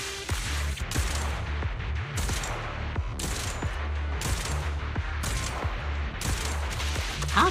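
Repeated gunfire in Zenless Zone Zero: a string of sharp, loud shots in irregular bursts about every second, close and punchy over continuous game background sound.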